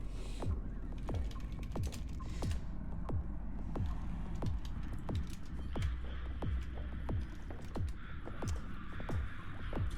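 Rapid, uneven keystrokes on a computer keyboard while playing the text adventure Zork, with steady clicks running through the whole stretch over a low throbbing hum and no talk.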